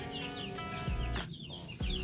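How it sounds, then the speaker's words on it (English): Backyard laying hens cluck and make soft calls in quick repeated bursts close by, with faint rustling between the calls. "See them mama chickens?"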